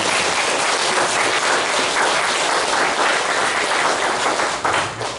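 A church congregation claps in sustained, dense applause throughout, loud and steady, with no talking over it, tapering slightly at the very end.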